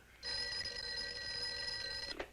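An old-fashioned telephone bell rings in an old black-and-white horror film, a single steady electric ring of about two seconds that stops with a clunk. No voices are heard over it.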